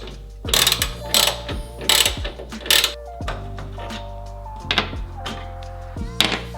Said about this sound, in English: To remove the taillight, we're going to remove this top bolt and this bottom bolt right here